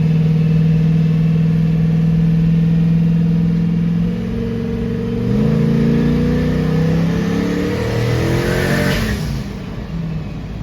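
A turbocharged LS engine in an S10 race car runs loud and steady, its drone rising in pitch as boost builds, then settling briefly before climbing again.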